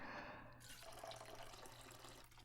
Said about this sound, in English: And then pour in the coconut milk.